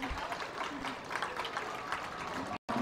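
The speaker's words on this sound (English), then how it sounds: "Let's give our exhibitors a round of applause for their hard work today." Audience applause at a county fair beef cattle and feeder calf judging, a steady wash of clapping across the crowd with some voices mixed in, cut by a brief gap near the end.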